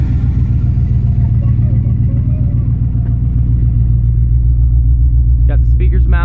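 A 1980 Buick Regal's engine runs close by with a loud, steady low rumble and a dense hum of harmonics that holds evenly throughout.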